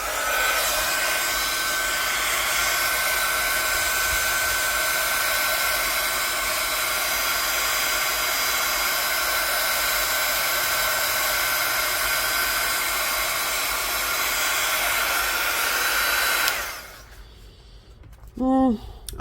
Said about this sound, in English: I'm going to hit them with a heat gun and see how well this works